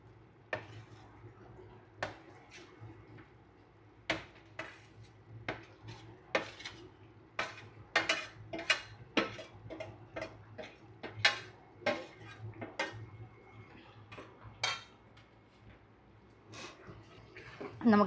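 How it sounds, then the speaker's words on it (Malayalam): Fried prawns being mixed into a pickle in a pan, a run of repeated metallic spoon clanks and scrapes against the pan at an irregular pace, close and fairly clear over a low background hum. "നമുക്കിതൊന്ന് മിക്സ് ആക്കി കൊടുക്കാം."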